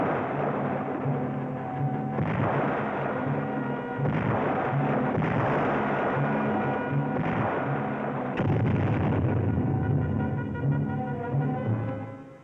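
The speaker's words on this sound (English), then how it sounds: "Simulated explosions call for quick response by the students." Loud simulated explosions and booming blasts from an infantry ambush training exercise in the field, a dense, continuous rumble with several heavy bursts spread across the clip.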